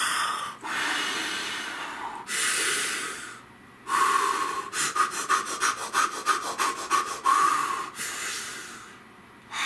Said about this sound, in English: Come on, let's mouth breathe together.